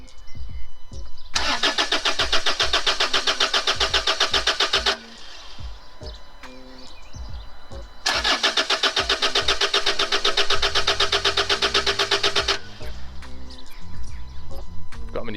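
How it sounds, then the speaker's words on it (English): A Land Rover Freelander 2, just fitted with a new PCV valve, being cranked twice: two long, loud, rapid starter churning bursts separated by a pause, with faint birdsong and clicks around them. "Right, here we go then, time to turn it over."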